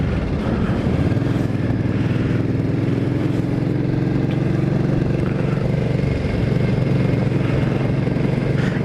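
A Suzuki M50 motorcycle fitted with aftermarket handlebars being ridden in cold weather, its engine droning loudly and steadily close up, with wind noise throughout.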